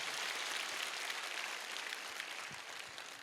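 An audience at a motivational seminar claps steadily, a dense spread of hand claps sustained for a few seconds at moderate distance, tapering slightly toward the end.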